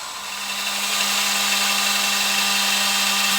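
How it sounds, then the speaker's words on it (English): Power drill boring into a broken bolt on an LS tractor, a steady, close motor whine with a grinding metal cut that builds slightly and then holds constant, with no talk. "I'm going to angle the drill a little bit that way and see if I can cut into the bolt a little bit further"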